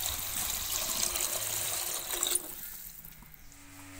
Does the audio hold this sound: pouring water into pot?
yes